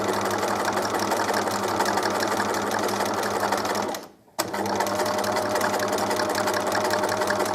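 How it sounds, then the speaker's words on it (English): A sewing machine stitches a fabric practice piece with a steady, dense, mechanical whir. It stops briefly partway through, then starts again and runs at the same pace. "Please stitch on your first piece that you made for practice."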